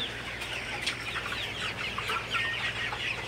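Sonali super hybrid chickens cluck on a farm, scattered short calls from several birds over a low steady hum, fairly faint and without any talk.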